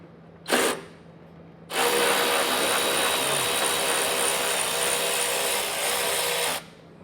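Nuts coming off under a 2025 Chevrolet truck with a power tool and 10mm socket: a short whir, then a sustained loud buzzing drive of about five seconds, close by with no talk.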